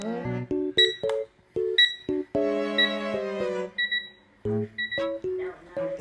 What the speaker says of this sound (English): hopefully this beeping don't get on your nerves. But that's why it's an alarm clock.